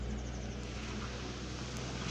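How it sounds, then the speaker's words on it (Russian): A tractor drives along a beach, making a steady, unbroken low engine rumble that fills the whole moment at an even loudness. "Трактор ездит."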